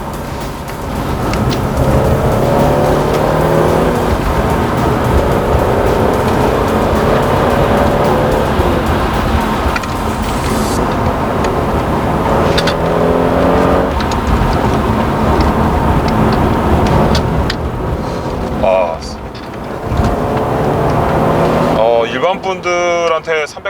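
Mercedes-Benz E400 coupe driving in Sport Plus mode, a steady engine and road drone carrying through the cabin under continuous conversation, with a brief dip near the end.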